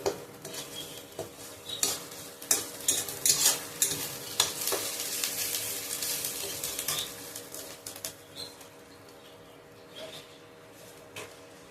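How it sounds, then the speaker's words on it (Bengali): Chana dal spices sauté with cumin powder in a pan as a metal spoon stirs repeatedly, producing rhythmic scraping and clinking over a soft sizzle, close and fairly quiet, easing off toward the end. "আমি ভালো করে নাড়াচাড়া করে সঙ্গে কষিয়ে নিচ্ছি"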